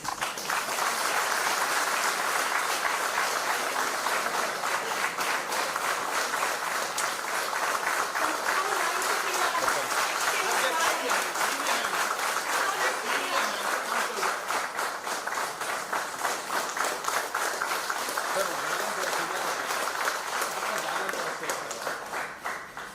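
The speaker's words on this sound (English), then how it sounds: "Round of applause, please." An audience applauds at a corporate farewell ceremony for a CMD and his wife, with sustained, rhythmic clapping at moderate distance that holds steady for over twenty seconds before easing slightly at the end.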